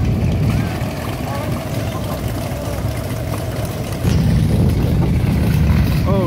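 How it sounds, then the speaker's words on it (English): Many motorcycles ride past on a road in Waimanalo, a dense, loud engine roar that swells near the end as more bikes close in. "Whoa, plenty of motorbikes."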